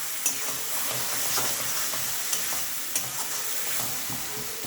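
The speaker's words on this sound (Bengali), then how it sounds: "এই মশলা আমি আর একটু কষিয়ে নেব, ভাজা ভাজা গন্ধ হবে" Spiced masala for egg curry frying and being stirred in a pan, a steady close sizzle with soft scraping strokes and a few sharper clicks of the spoon, no talking.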